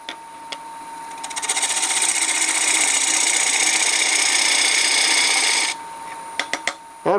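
A half-inch bowl gouge cuts into wood spinning on a lathe while turning an off-center bowl: a steady, loud rasping shear builds up, holds for about four seconds, then breaks off, followed by a few light knocks.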